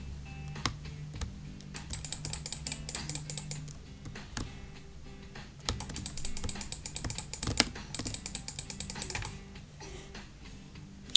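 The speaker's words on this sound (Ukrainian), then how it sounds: "Чуєте, як я клікаю мишкою?" Quick mouse clicks and keyboard-like tapping during a Roblox game session, coming in irregular bursts of sharp, close clicks over a faint steady hum, with no voice.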